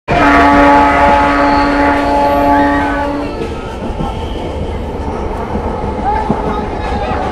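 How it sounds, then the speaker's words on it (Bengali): A Purulia–Howrah MEMU passenger train pulls into Bokra railway station, a loud sustained horn blast for about three seconds giving way to the steady rumble and clatter of the moving coaches. "পুরুলিয়া হাওড়া মেমু প্যাসেঞ্জার বোকরা রেল স্টেশনে ঢুকলো।"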